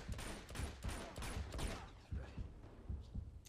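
Rapid bursts of gunfire in the action game Uncharted 2, a dense fusillade of repeated shots in an irregular rhythm, loud and continuous with a low thumping undertone.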